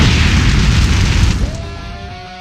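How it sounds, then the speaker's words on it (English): A batch of fireworks set off all at once erupts in a loud, dense burst of booms and crackle that fades into a ringing tail after about a second and a half. "Let's light all these fireworks up at the same time."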